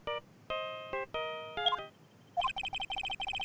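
Phone ringtone playing the Steel Samurai theme from a video game, bright electronic tones in short melodic phrases followed by a rapid repeating chirpy beeping pattern, clear and alone.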